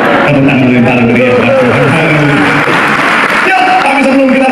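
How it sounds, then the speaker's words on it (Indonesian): A church congregation at an Indonesian service breaks into loud, sustained applause that fills the space, with speech and cheering mixed in throughout. "Tepuk tangan yang paling meriah."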